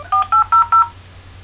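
Telephone voicemail tones on a business answering line: four short, evenly spaced electronic beeps in quick succession, loud and clear, with no talking.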